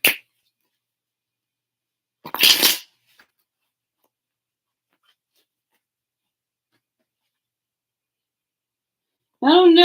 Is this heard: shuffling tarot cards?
yes